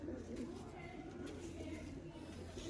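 Breeder pigeons kept in pairs in a loft setup coo softly and repeatedly nearby, heard beneath someone speaking.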